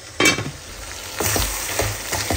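Dried fish (shutki) slowly sautéed over low heat in a pan, with a steady soft sizzle broken by several sharp scraping stirs of a spatula, close and moderately loud.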